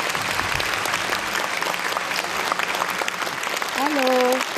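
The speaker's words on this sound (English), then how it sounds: "Let's welcome Mr. Solorio with a big round of applause." Sustained applause from an audience at a book launch event, steady and dense clapping throughout, with a voice starting to speak over it near the end.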